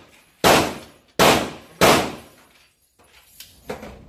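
Gunfire at a gun range: three loud, sharp shots close by, spaced under a second apart, then a couple of quieter, more distant pops.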